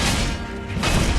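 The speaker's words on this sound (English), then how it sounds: "if we've got an axe, shield goes down and guy goes down" In Sekiro: Shadows Die Twice, an axe smashes through an enemy's shield with a loud, heavy crash. Dense impact noise fills the moment and swells again with a second burst.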